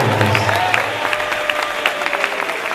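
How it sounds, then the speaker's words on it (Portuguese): A church congregation at an IPDA evangelical service claps and cheers in a sustained burst of applause, with scattered sharp claps over a dense crowd wash and a low hum fading after the first second. "Mais forte palmas para Jesus"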